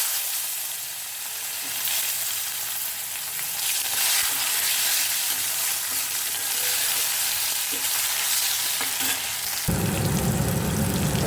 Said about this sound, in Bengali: কালো জিরেটা ভেজে নিয়ে সঙ্গে সঙ্গে কোচানো টমেটোটা আমি দিয়ে দিই।